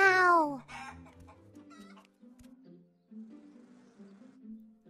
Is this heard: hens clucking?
yes